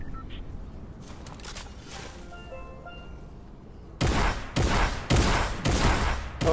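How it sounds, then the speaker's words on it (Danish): Gunfire in the Fortnite video game: after a quieter stretch of low game noise, four loud, close bursts of rapid shots come about half a second apart and end abruptly. "Hvorfor rammer de der skud ikke?"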